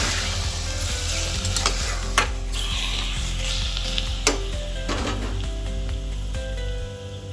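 Washed chicken pieces sizzle loudly in a pan while being stir-fried for a spicy chicken rassa, with repeated spatula scrapes and knocks over a steady frying hiss, no talking.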